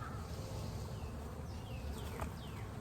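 Honey bees swarm a full honey super on a hive, giving a faint, steady buzzing hum with a few brief higher chirps.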